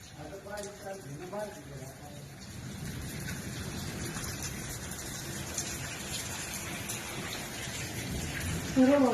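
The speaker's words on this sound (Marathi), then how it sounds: "हा पाऊस चालू आहे पाऊस" Steady rain falling in Haryana after a heavy hailstorm, a continuous close hiss of drops that builds slightly, with a voice talking faintly at the start.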